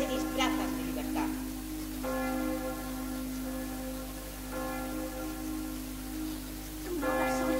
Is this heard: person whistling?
no